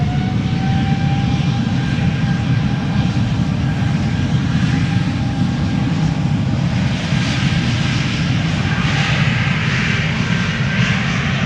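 A Cathay Pacific Airbus A350-1000 departs Amsterdam Schiphol, its engines giving a loud, close, unbroken roar with a thin whining tone threaded through it for the whole stretch.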